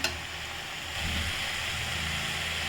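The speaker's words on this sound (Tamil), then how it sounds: "இப்போ நம்ம கொஞ்சமாக தண்ணி ஊற்றிக்கலாம்" Water poured into a pan of sautéed tomato and onion for hotel-style poori potato masala, a steady hissing sizzle and rushing pour filling the clip, loud and close, with no talk.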